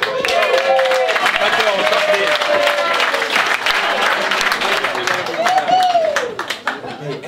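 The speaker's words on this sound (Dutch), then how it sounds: "Een heel groot applaus" A large audience applauds loudly and continuously, clapping filling the space while a voice speaks over it as the applause fades at the end.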